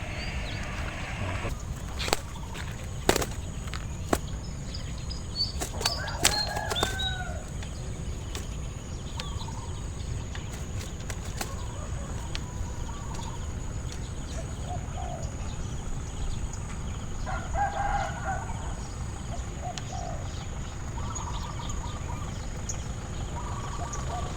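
Zebra dove cooing outdoors, soft repeated coo phrases standing out faintly over a steady background hiss, with occasional sharper clicks and chirps; no talking.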